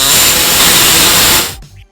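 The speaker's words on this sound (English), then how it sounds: "We're going to go ahead and open it up a little bit by using our air saw right here" A pneumatic air saw cuts a small notch into the steel frame of a 2002 Chrysler Town and Country minivan, a loud, steady high-pitched buzzing rasp running about one and a half seconds before stopping abruptly, followed by a brief quiet tail.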